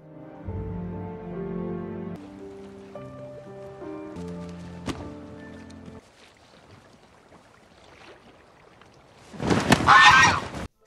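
Loud, harsh seabird squawks burst out near the end of a film scene set adrift at sea, following a stretch of swelling orchestral music and quieter ambience.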